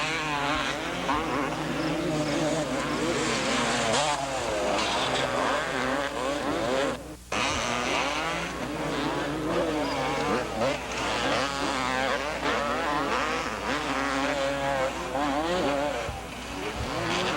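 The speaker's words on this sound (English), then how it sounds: "Lechien keeps riding at top speed, hoping to catch Johnson" Motocross motorcycles race around a dusty hillside track at the 1987 Thunder Valley 125/250 National, engines droning continuously at high revs with rising and falling pitch, loud and sustained throughout, one brief dip near the middle.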